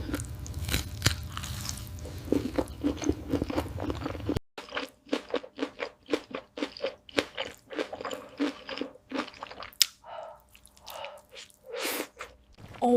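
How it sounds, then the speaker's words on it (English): Loud, close crunching and biting of a seafood boil with giant king crab and octopus, a dense run of sharp crackly bites and chewing with no talking. "Wow, that crunch."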